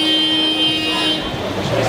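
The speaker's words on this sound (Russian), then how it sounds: "Чуть стоит прикимарить на светофоре, сразу тебе сигналит весь поток." Car horns toot in dense city traffic at a stoplight in Tel Aviv, a sustained close honk layered over road noise and engine hum.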